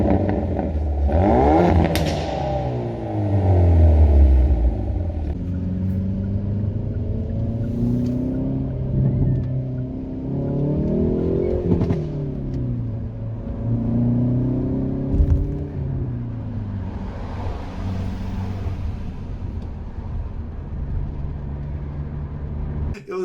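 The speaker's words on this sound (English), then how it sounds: "the exhaust was popping and crackling constantly" Hyundai Veloster N with a manual gearbox driving hard, the engine rising and falling through several gear changes with rough exhaust burble and crackle between revs, close and loud throughout.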